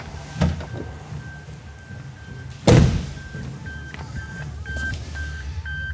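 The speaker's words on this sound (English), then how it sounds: "I'll close the door so you can see it better." A car door on a Suzuki Jimny swings shut with one solid thunk near the middle, nearby and loud, followed by a quiet interior with faint electronic tones.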